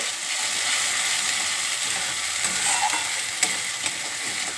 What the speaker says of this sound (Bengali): এবার কালো জিরে ফোড়ন দিয়ে